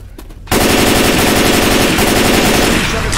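Loud, sustained automatic gunfire from the video game Left 4 Dead 2, a rapid continuous burst kicking in abruptly after a brief quieter moment and running to the end.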